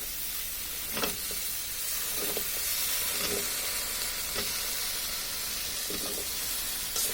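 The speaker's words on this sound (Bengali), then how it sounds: "এখন এর মধ্যে যে কচুর ছড়িগুলো আছে সেটা দিয়ে দিচ্ছি, বা কচুর মুখী।" Taro stems and taro corms sizzle and fry steadily in a pan with prawns, a loud continuous hiss broken by a few stirring scrapes, with no talking.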